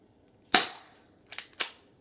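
Crossman Stinger P311 airsoft pistol fired outdoors: one sharp, snappy shot, then a quick pair of further shots about a second later, each a dry crack with a short tail, close and fairly loud.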